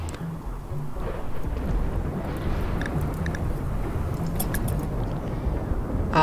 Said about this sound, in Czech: Máme tady bouřku.